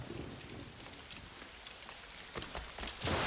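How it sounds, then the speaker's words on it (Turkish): Rain falls steadily in the video game Assassin's Creed Rogue, a dense, soft hiss of drops with faint scattered footsteps that grows slightly louder at the end. "Geç şuradan ne güzel yağmur yağıyor."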